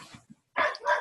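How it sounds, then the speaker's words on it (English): Dogs bark in two loud, close bursts, a few faint yips before them and a short quiet gap between. "I don't know what they're barking at."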